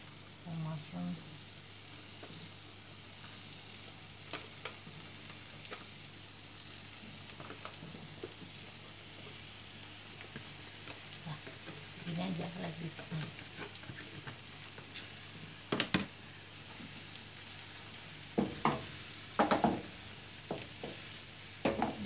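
Champignon mushrooms fry in a hot pan and get stirred, giving a steady soft sizzle with scattered clicks and scrapes of the spoon that sharpen near the end.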